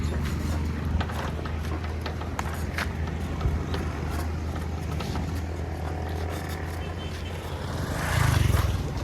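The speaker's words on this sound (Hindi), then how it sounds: "अभी रुक जा बाइक चला लूँ ना मैं" A motorbike rides along a road toward a mosque, its engine giving a steady low drone throughout with a louder surge near the end; wind and road noise accompany it.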